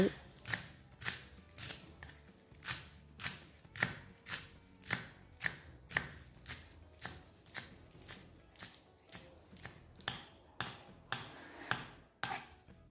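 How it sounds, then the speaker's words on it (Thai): A knife slices culantro (sawtooth coriander) on a board for raw shrimp larb, making about twenty crisp, close chopping strokes in a steady, even rhythm. "ก็นำผักชีฝรั่งมาซอยเตรียมไว้"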